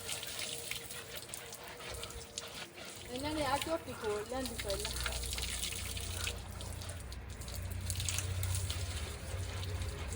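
A steady rush of water flows from a motor-fed pipe into a rural water tank, running continuously at moderate volume while people talk nearby.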